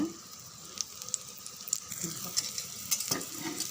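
Rava wheat dosa batter fries in oil in a pan over medium heat, a soft steady sizzle with small crackles and a few faint clinks of a utensil, fairly quiet and close.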